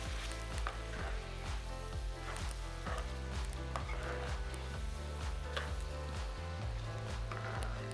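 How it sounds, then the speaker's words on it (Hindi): About 400 grams of boneless chicken fries in a pan, a steady sizzle running under prominent rhythmic background music throughout. "इसको हम 5 मिनट के लिए फ्राई करेंगे"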